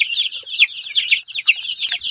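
A flock of about a hundred fourteen-day-old tiger chicken chicks peeps and chirps nonstop, many high, overlapping calls crowding together close by.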